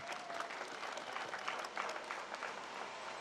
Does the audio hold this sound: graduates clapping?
yes